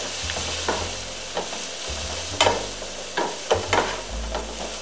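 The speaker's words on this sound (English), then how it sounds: "Okay, we're going to saute these down." Vegetables seasoned with pepper sautéing in a skillet for a one-pan ramen noodle dish, a continuous sizzle broken by several sharp spatula scrapes and taps, close and fairly loud, with no speech.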